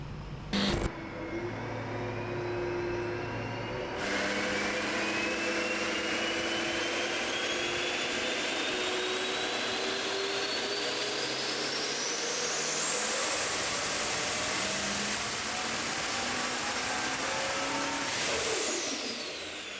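A compound-turbo Duramax diesel engine on a dyno holds a loud, steady roar with a rising turbo whine that climbs through a long pull, then drops off near the end, with no talking.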